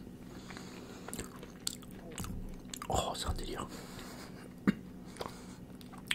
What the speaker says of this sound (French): Le croustillant là dedans, il y a des noisettes entières.